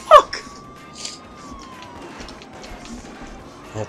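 A police car siren sounds in the Starsky & Hutch driving video game: a single steady wailing tone that slides down and fades over engine noise, framed by a few brief thumps.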